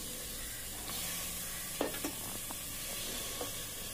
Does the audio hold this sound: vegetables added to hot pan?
yes